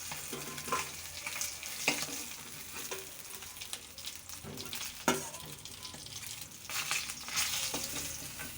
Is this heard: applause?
no